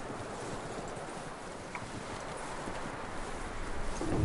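Horse hooves clip-clopping in the Red Dead Redemption 2 video game, a steady muffled patter under a bed of wind and ambient noise that swells slightly toward the end, with no talk.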